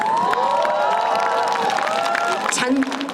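Concert crowd cheering and shouting at a celebration performance for a half marathon in Osan, a loud continuous roar of voices with someone speaking over it.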